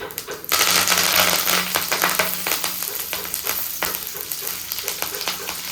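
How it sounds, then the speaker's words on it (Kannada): Curry leaves, coriander, mustard seeds and cumin hit hot oil in a pan with a sudden loud sizzle, then keep up a steady crackling fry with scattered pops and stirring scrapes. "ಕರಿಬೇವು, ಕೊತ್ತಂಬರಿ ಸೊಪ್ಪು, ಸಾಸಿವೆ, ಜೀರಿಗೆ ಎಲ್ಲ ಹಾಕ್ಕೊಳ್ಳಿ."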